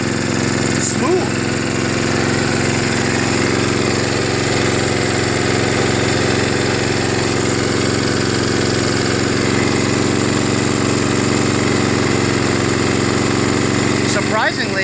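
A 5 HP Tecumseh horizontal-shaft snowblower engine runs steadily and loudly close by, a constant rough mechanical drone with no breaks.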